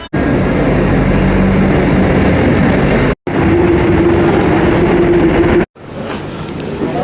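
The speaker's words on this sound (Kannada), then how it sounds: "ಇಲ್ಲಿ ನೋಡ್ರಿ ಟ್ರೈನ್ ಬರತೈತಿ ಈಗ." A train pulls into Dr. B.R. Ambedkar Nagar station with a loud, steady rumble of wheels and engine, broken by two brief gaps, and a faint high whine after the first gap.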